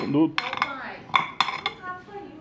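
Pots and pans clatter in a home kitchen while dinner is cooked, with a few sharp metallic clanks and clinks in quick, uneven bursts close by.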